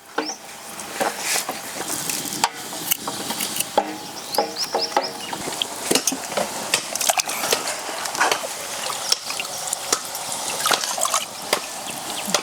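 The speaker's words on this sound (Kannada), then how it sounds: "ನೀರು ಕುದ್ದೋಗಿದೆ." Water at a rolling boil in a pot during outdoor village-style cooking, a dense crackle of bursting bubbles with scattered sharp pops and clicks, steady and moderately close for the whole stretch, no voices.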